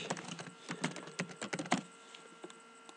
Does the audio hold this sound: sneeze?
no